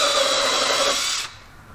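A power drill bores through a piece of wood clamped behind the workpiece, whirring loudly and steadily for over a second before cutting off abruptly into quiet.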